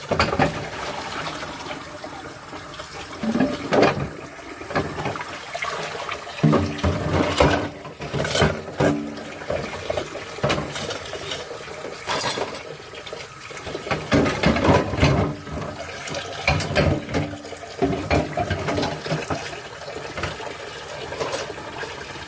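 Water runs from a kitchen tap into a sink for an extended stretch, a continuous splashing gush that swells and dips, mixed with clinks and scrapes of dishes and silverware being handled nearby.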